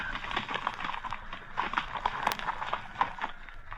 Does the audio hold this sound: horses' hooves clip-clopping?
yes